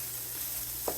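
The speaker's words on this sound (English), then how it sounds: "I add the walnuts, and I'm just frying those." Steady sizzling of chopped walnuts frying with seasoning in a hot pan, a constant crackling hiss with one brief louder pop near the end.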